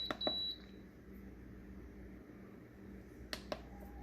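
An Emeril Lagasse pressure cooker's control panel chirps as its timer is set, with a few short, faint electronic beeps near the start and a quick cluster near the end over a low kitchen hum.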